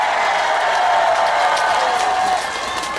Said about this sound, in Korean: 그렇다면 다시 한번 박수와 함성!